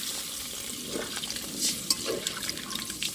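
Room-temperature water pours into a pot of curry cooking on the stove, making soft sizzling and splashing with a few light bubbling bursts, faint and without talk.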